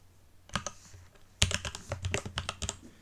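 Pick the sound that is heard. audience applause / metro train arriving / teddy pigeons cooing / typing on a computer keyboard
typing on a computer keyboard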